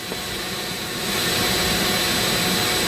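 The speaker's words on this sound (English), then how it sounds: "we're going to start breaking out my Dremel, and we're going to carve it up" Dremel rotary tool carving a Medusa sculpture, a continuous high whining buzz that swells slightly louder partway through, close and steady with no talking.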